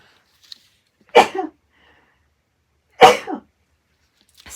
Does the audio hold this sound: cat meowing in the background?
no